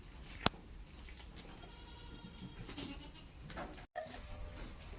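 Goats bleating outdoors on a farm during rain, with several short bleats rising over a steady background hiss in the first few seconds; no talking.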